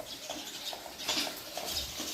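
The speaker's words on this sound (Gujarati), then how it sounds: "ચકલીઓને જો મજા આવે" Sparrows chirp in a small flock, a busy patter of high, overlapping calls that carries steadily through the outdoor air after rain, with no one speaking.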